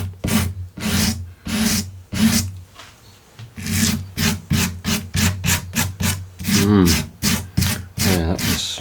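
A stiffer-bristle brush scrubbing dirt out of wood on a workshop bench, a close run of rhythmic scratchy strokes that quicken toward the end, with a brief murmur of voice partway through.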